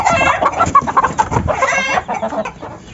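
A hen clucks and squawks in close, agitated bursts while being picked up by hand and moved to a new colony cage, alone with no talking.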